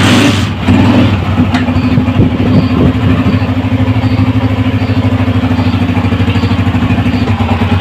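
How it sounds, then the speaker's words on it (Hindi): A restored 2010 Honda CG125 motorcycle engine starts and settles into a steady, even idle, loud and close with a regular low thumping rhythm. "जी दोस्तों, बाइक हमारी स्टार्ट हो चुकी है, माशाल्लाह बहुत प्यारा साउंड है"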